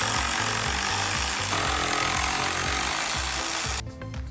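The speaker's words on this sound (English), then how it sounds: "I'm gonna start by taking these 3 bolts out" Bolts being removed from a Jeep factory steering bracket with a rapid impact tool, a loud continuous rattling hammer for nearly four seconds that cuts off abruptly near the end.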